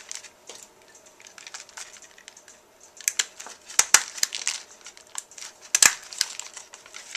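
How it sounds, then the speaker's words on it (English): A folded 3/8-inch flap of a plastic treat bag is stapled shut, with crinkling plastic handling and several sharp, close staple clicks clustered near the middle and end. "I'm going to go ahead and staple that right in there so that stays in."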